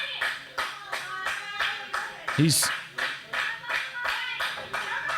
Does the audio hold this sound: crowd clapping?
yes